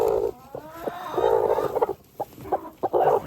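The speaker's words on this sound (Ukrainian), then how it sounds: "ось курочка сіла, нестися. Ця квочка сіла." Chickens and a broody hen cluck on a farm, close and fairly loud, in short irregular bursts of clucks and throaty calls with brief pauses between them.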